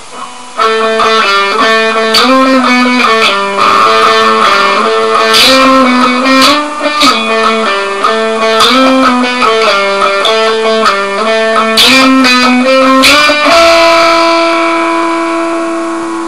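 Distorted electric guitar plays a sustained melodic riff from a remix, steady and loud with chiming high notes and a held final note, no talk.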